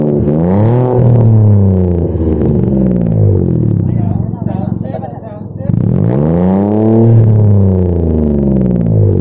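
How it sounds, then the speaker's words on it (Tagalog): Car exhaust fitted with an HKS Jasma muffler revs up twice, with a deep rising and falling roar and a quieter idle dip between the two loud revs. "eto ang sound check ng HKS Muffler"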